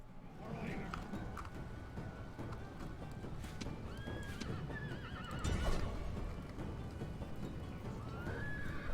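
Horses of the Riders of Rhun in a video game neigh and whinny over the steady clip-clop of galloping hooves, with a person talking over the action.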